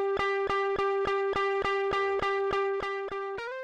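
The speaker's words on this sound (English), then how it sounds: "Here it is with drive." Electric guitar played through a Vintage Drive pedal in Logic Pro X, a steady run of evenly picked, distorted notes in a repeating rhythm at constant loudness, ending on a bent note near the close, with no talking.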